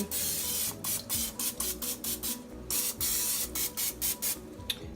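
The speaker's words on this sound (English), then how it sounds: "I'm gonna put some cooking spray in both of them." Repeated short hissing bursts of aerosol cooking spray into pans, about a dozen quick pulses in a row over a steady low hum.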